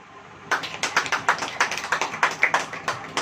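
A church congregation claps in a steady, regular rhythm during a Hindi sermon. Sharp, fairly close claps, about four per second, start abruptly after half a second of quiet and continue evenly to the end.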